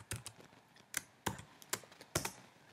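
Several crisp keystrokes on a computer keyboard while entering a spreadsheet formula, close and quiet, irregular taps with short pauses between them, no voices.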